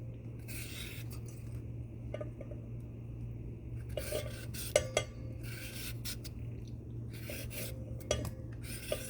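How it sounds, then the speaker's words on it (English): Skinned salmon is diced with a knife, sounding as scattered soft taps and scrapes on a board over a steady low kitchen hum, close and fairly quiet, with no talk. "And then I'm going to start dicing this up."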